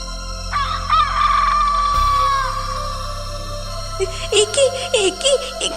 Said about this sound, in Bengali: কিছু দূর যেতেই ঘাড় মুটকে ধরলো মুরগি।